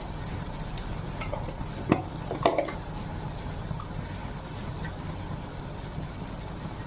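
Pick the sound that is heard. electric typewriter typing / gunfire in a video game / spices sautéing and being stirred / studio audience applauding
spices sautéing and being stirred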